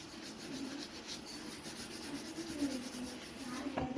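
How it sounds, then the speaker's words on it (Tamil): Cooking utensils scrubbed by hand during dishwashing, giving a steady close rasping and rubbing that runs throughout, with a sharper scrape near the end. "தேய்ச்சி கழுவணும்"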